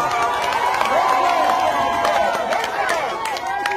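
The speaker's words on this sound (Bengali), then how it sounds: "হাততালি, সকলের হাততালি দেন।" Crowd noise from an audience at a national boat race competition, with dense cheering and shouting and some clapping. A steady, loud mass of voices fills the whole stretch.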